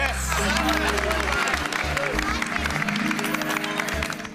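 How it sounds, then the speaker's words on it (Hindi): Loud applause and clapping from a crowd gathered at a program, cheering for Abdul bhai, a dense burst of many hands that carries on for several seconds with some voices mixed in. "तो एक बार जोरदार तालियां अब्दुल भाई के लिए"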